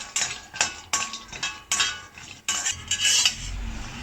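Cashews are dry-roasted and stirred in a pan for rice kanji. A utensil scrapes and clinks against the pan in repeated, close strokes about every half second, with a light rattle of the nuts.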